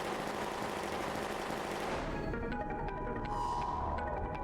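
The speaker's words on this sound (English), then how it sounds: "I do not enjoy being shot at." Machine gun fire in The Darkside Detective video game, a dense continuous rattle that fills the first two seconds, then gives way to scattered lighter shots and clicks under a steady game background.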